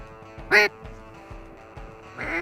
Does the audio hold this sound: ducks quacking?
yes